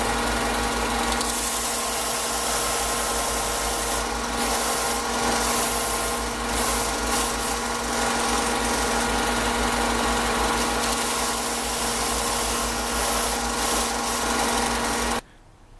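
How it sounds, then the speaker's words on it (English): Continuous mechanical whirring and grinding of a power sander working a printed circuit board to size, steady and close, cutting off abruptly at the end. "So I finished sanding my board to size."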